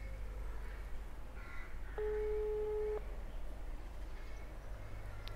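An unanswered phone call's ringing tone sounds once as a steady electronic beep lasting about a second, heard faintly over low background hum, with a few soft noises around it.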